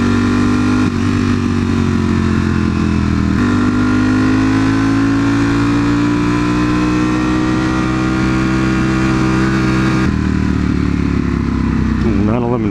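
A powerful engine, either a Cadillac Escalade or a V4 superbike, holds a sustained high-revving drone close by, with a steady rising pitch, brief shifts in tone and a final rev at the end.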